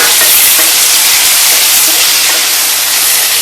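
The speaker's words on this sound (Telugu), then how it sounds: "ఈ వంకాయ ముక్కల్ని కొంచెం ఆయిల్లో బాగా ఫ్రై అయ్యేటట్టు చూడండి" Brinjal pieces frying in oil, a loud, dense, continuous sizzle close up with a constant hiss and faint crackles, unbroken throughout.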